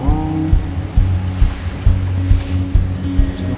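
Stormy ocean waves surge and crash around a sailing boat in a maelstrom, loud rhythmic swells rolling roughly every half second with rushing water, close and heavy, no talk.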